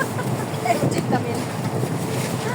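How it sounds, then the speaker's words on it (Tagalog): Strong gusts blow outdoors in Hong Kong, buffeting the microphone with a rumbling, fluttering roar that rises and falls while a voice talks faintly underneath. "Hangin to. Grabe, ang lakas talaga."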